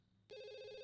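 A telephone rings in The Sims 2, a bright electronic ring with steady harmonic tones that starts abruptly and holds loud and close to the end, with no talk over it.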